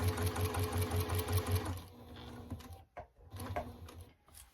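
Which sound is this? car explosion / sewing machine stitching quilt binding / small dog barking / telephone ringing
sewing machine stitching quilt binding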